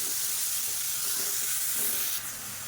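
Finely chopped onions sautéing in a pan, a dense, even hiss and sizzle close by with faint stirring, easing slightly near the end, nobody speaking.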